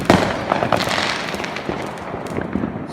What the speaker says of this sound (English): Some more fireworks over there in that direction.